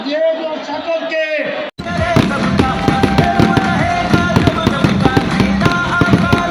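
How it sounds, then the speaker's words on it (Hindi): Fireworks crackle and pop in rapid, irregular bursts at a political rally welcome in Okara, mixed with crowd noise and someone talking over a loudspeaker. "ये आतिशबाजी बंद करते हैं।"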